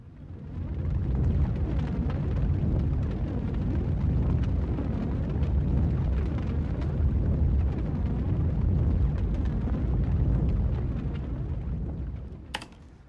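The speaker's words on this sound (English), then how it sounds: "Just a fire rumble." A fire rumble sound design layer gives a dense, continuous low roar with crackling texture, swelling in and fading out over about twelve seconds, alone with no voices.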